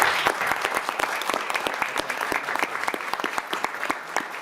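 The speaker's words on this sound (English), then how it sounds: "I think we should give them a round of applause." Round of applause in a state House taxes committee hearing room, a moderate crowd clapping steadily with distinct individual claps throughout.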